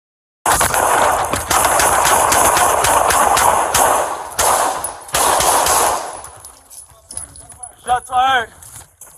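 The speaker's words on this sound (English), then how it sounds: "Shots fired." Rapid bursts of close, loud gunfire during a police shootout with a car thief, dense volleys for about six seconds, then a pause and shouting voices near the end.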